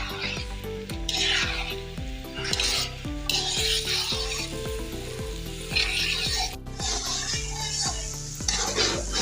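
Onions and chicken fry in a karahi while being stirred, a loud continuous sizzle under repeated metallic scraping and clanking of the spoon against the pan, close by.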